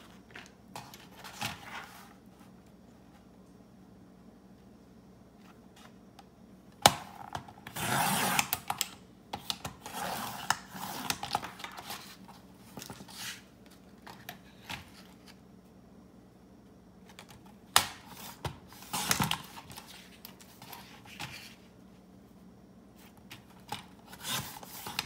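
Thick decorative planner paper sliced with a small hobby paper cutter, giving repeated rasping, scraping strokes in bursts of varying loudness, up close and with no talking.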